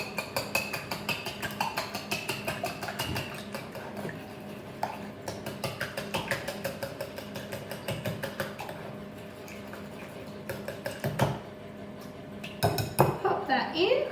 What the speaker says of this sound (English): I'm just going to give that a little whisk around.